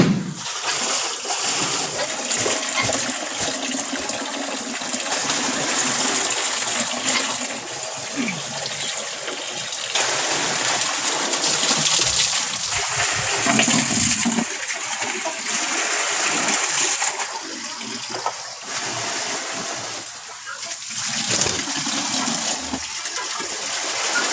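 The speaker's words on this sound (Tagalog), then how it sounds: "Tapos, hugasan natin tong filter chamber." Water gushes and splashes steadily while a koi pond filter chamber is hosed out. The rushing and spattering runs continuously throughout, fairly loud and close.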